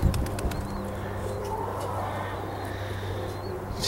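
White racing pigeons coo around their loft outdoors, soft repeated low calls carrying steadily at close range over a constant background hum, with a few faint chirps.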